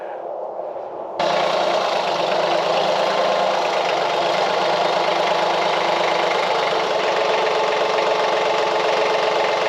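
A tractor engine starts up and then runs steadily at a close, loud, even idle with a constant rumble for the rest of the clip, on a farm or work yard where a landscape utility trailer is being repaired.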